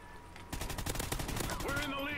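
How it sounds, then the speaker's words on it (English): Submachine gun fire in a video game, a fast rattling burst of close shots starting about half a second in and running for over a second, with a voice talking over the game sounds. "Maybe I'll switch to a submachine gun."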